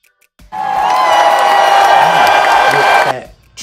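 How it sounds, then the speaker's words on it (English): A crowd bursts into cheering and whooping with some applause, loud and close, rising abruptly and holding for about two and a half seconds before cutting off, with shouted voices mixed in. "Give them a round of applause"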